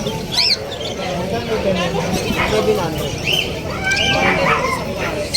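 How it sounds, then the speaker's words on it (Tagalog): Caged birds chirping and tweeting at a pet market in Bulacan, short high calls scattered over steady crowd noise and nearby voices talking. "Ito yung mga ibon niya."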